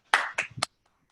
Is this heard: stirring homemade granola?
no